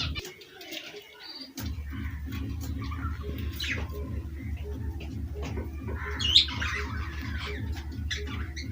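Budgerigars, a wild-type male and a lutino female, chirp and squawk in a cage. The small calls are scattered and fairly close, over a steady low background hum.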